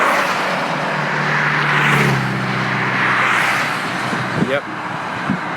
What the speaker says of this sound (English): I'm going to shush up as this car goes by.